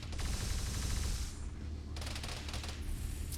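Automated turret gunfire in a Warhammer 40,000 Tau-versus-traitors video game battle, rapid sustained bursts of rattling shots that stop briefly and then resume, loud and close.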